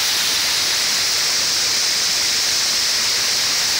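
Water rushes at the base of Walton Glen Gorge in a loud, constant hiss-like roar, steady and unbroken with no voices.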